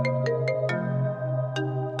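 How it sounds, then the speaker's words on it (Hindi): A melodic phone ringtone plays nearby in a short film, a quick sequence of bright electronic notes repeating with a steady rhythm. "समीना का फोन"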